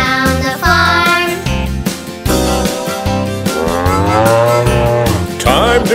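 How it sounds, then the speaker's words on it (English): Farm cow mooing in a nursery rhyme song: loud, drawn-out moos over a bouncy musical backing, repeated several times in close succession. "Old milk cow goes moo, moo, moo."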